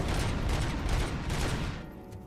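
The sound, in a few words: gunfire in the video game RoboCop: Rogue City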